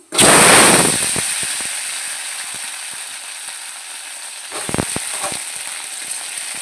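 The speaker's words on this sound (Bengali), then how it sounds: "তেল গরম করতে দিয়েছি। এই যে চাটনি করব আমের, দিয়ে দিচ্ছি 5 ফোড়ন, ধুয়ে রাখা আমগুলো দিয়ে দেবো" Mango chutney pieces and five-spice tempering hit hot oil with a loud, bursting sizzle that settles into a steady frying hiss, broken near the end by a few clattering stirs.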